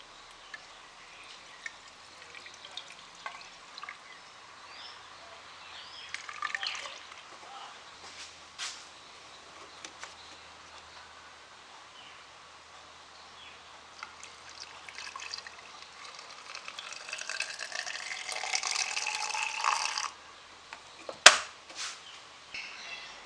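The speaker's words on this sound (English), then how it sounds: "and then I'll top up the rest with water." Water poured from a bottle into the windscreen washer fluid reservoir of a diesel 2.2L Holden Captiva LTZ, a soft trickling pour that builds toward the end, followed by a sharp knock.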